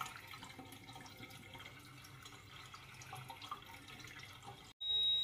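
Water draining out of a fish aquarium during cleaning, a steady close-up rush and trickle of liquid running through the whole stretch, broken by a brief silence near the end before a louder burst.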